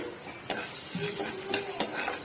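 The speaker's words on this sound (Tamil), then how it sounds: "காஞ்ச மிளகா கொஞ்சம் வறுக்கட்டும் ஜீரகம் மிளகு" Dried red chillies, cumin and black pepper dry-roasting in a pan, with a spoon scraping and stirring in irregular clinks and scrapes over a faint crackle, close and fairly quiet, no voices.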